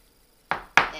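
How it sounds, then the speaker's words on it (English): A knife chops through food on a cutting board while kimchi is prepared: silence, then three crisp, close chops spaced irregularly, the last cut short. "I'm going to chop it up, chop it up"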